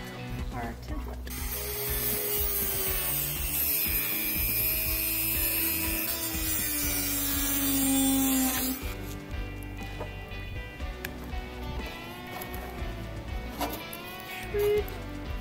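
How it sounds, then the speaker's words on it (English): Dremel rotary tool cutting out a carbon fibre template for a Holden door card: a loud, continuous high-pitched whine with shifting pitch as it bites, easing off partway, with talking underneath. "we're going to use this dremel and we're going to cut out our template."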